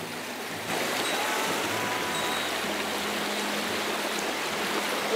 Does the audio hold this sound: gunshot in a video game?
no